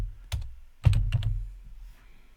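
Typing on a computer keyboard while working in Adobe Illustrator gives a few close, quiet key clicks in a short burst, with no talking.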